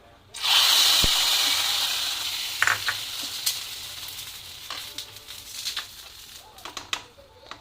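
Mustard seeds and curry leaves hit hot oil in a tempering for a pumpkin dish, bursting into a loud close sizzle that slowly fades, broken by small pops and stirring clicks, with no speech.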